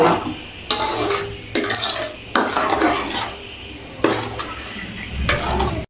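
Repeated scraping and clinking of a utensil stirring apple, beetroot and carrot jam in a metal pot, in several bursts with brief pauses, fairly close and loud.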